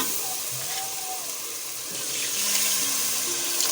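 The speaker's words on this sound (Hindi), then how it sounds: "मैक्सिमम 4 कप पानी ऐड कर रही हूँ" Water pours steadily into a pot of keema (minced meat) mixed with ground coriander, salt, turmeric and ground chili, a close, continuous splashing stream with no talk over it.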